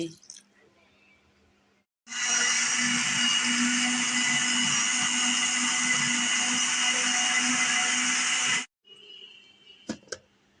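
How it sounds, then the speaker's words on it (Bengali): A blender whirs loudly for several seconds blending watermelon juice with water, a steady high-pitched motor roar that starts and stops abruptly, with faint clinks and quiet movement before and after. "এখন ব্লেন্ডার করার পালা"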